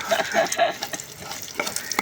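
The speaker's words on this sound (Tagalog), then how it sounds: "Nagpiprito." Oil sizzles steadily as anchovies fry in a rice cooker pot, with a few scraping stirs near the start and light clinks of a utensil.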